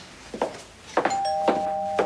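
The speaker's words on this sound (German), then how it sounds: "Machst du mal die Tür auf? Sebastian." A doorbell rings indoors with a series of bright electronic ding tones that hold and repeat over a couple of seconds. The tones are fairly clear, and soft background noises sit beneath them.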